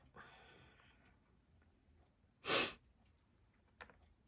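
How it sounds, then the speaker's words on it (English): A few sharp nasal sniffs from someone with a cold: a faint breathy intake, then one loud abrupt sniffle, and a short quieter sniff after, close up in a quiet room. "Sorry about the sniffles."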